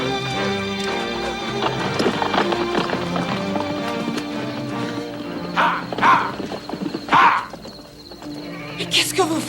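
Several horses gallop with clattering hooves and sharp whinnies, amid a busy dramatic scene with music and other sounds. Two loud neighs stand out near the end.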